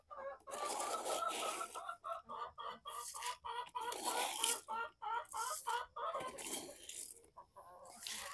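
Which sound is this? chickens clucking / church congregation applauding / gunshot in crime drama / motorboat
chickens clucking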